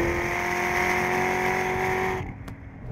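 A Chevrolet Corvette ZR1 charges hard uphill on a race track, its engine a loud, steady, close-up roar that holds for about two seconds before suddenly dropping away as the throttle lifts.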